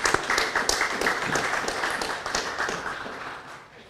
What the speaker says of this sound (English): So I'd like to give them a round of applause right now.